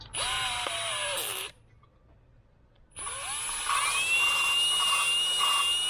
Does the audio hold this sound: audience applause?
no